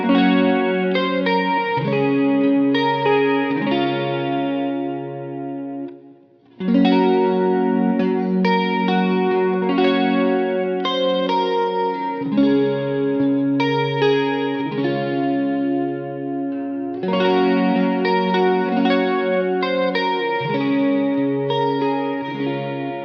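Four bars of Silent Night played slowly on guitar: a plucked melody over ringing chords with a shimmering chorus-like effect, clear and up close, with no talking.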